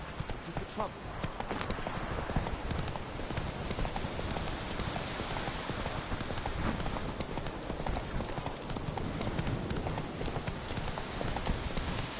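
Roach, a horse in the video game Witcher 3, gallops with a continuous, rapid clatter of hoofbeats that stays steady and close for the whole stretch.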